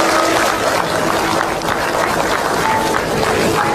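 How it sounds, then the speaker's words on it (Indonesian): Steady applause from an audience, a dense, even clatter of many hands clapping that holds for several seconds at full loudness. "tepuk tangan untuk teman-teman sabar"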